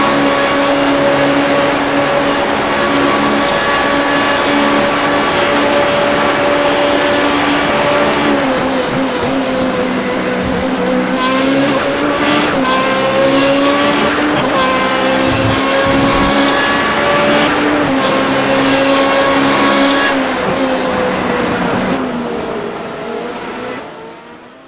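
Onboard a Formula 3.5 race car at Imola, the engine screams loud and close, pitch climbing and dropping through gear changes and braking for corners, fading slightly at the end.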